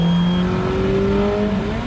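A Ferrari F430 Spyder engine roars loudly and close as it accelerates on a track, its pitch climbing steadily through a short burst.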